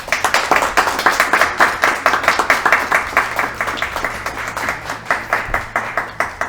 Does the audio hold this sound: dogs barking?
no